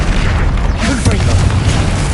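The Confringo fire spell in Hogwarts Legacy bursts with a loud, dense booming explosion. Rumbling low end and crackling noise fill the whole two seconds, and a voice is faintly audible underneath.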